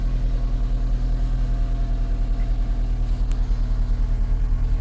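A Chevrolet Cavalier car engine runs at a steady idle after being brought back to life, a loud, even low rumble with a regular pulsing beat and no voices over it.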